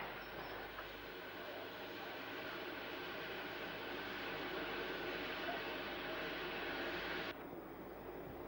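A Black Five steam locomotive arriving at Banbury from the south, a steady heavy rumble with a constant hiss that holds for about seven seconds and then cuts off, leaving only a faint background.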